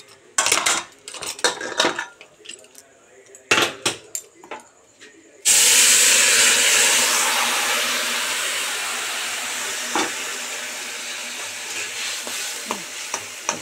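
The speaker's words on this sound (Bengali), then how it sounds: "কিশোরী সিটিটা একটু খুলে দিলাম।" The whistle on a pressure cooker of papaya curry is lifted, and steam rushes out in a loud, close, sustained hiss after a few clanks and knocks of handling.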